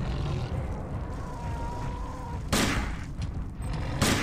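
Gunfire bursts from the first-person shooter System Shock 2, a sharp loud volley striking around the middle and another near the end over a dense, droning game soundscape.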